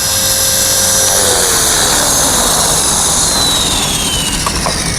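A Devil X360 RC helicopter comes in to land, its high-pitched rotor and motor whine loud and close. The steady buzz holds for the whole stretch, its pitch gliding slightly, with no voices heard.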